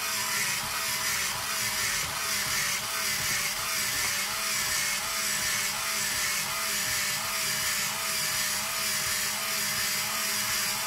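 A Starfrit Rotato Express electric peeler spins a zucchini against its blade, giving a loud, continuous motor whir that holds steady throughout with no voices over it.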